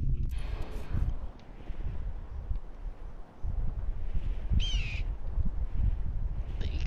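A short, high, wavering eagle cry rings out once in Far Cry 3, over a steady rumble of wind and movement with no talk.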